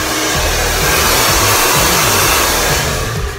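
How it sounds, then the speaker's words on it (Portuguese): A hair dryer on its hot setting blows a loud, steady roar from start to finish while a man's quiff is styled, with no talking over it. "Coloca na velocidade quente do secador"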